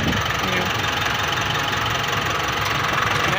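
A Nissan NV350 van engine idles with its air conditioning switched on, giving a steady, even mechanical drone with a low knocking texture that holds without a break for the whole stretch.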